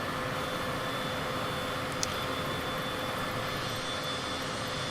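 An aircraft engine in Microsoft Flight Simulator drones as a steady, dense roar at an even level, with no talk over it.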